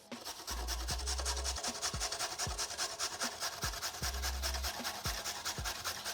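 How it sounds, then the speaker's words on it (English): Carrots rubbed against a box grater in steady back-and-forth strokes, a close rasping scrape repeating about once a second, with no talking. "The carrots I'm actually going to grate because I think that they'll just melt into the sauce a lot better."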